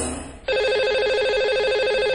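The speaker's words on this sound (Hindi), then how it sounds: "तो लगाते हैं इन्हें अब कॉल और करते हैं इनसे बात" Telephone ringing as a call is placed to a caller on a live TV show, a steady electronic ring tone starting abruptly after a brief quiet moment and continuing loud and unbroken.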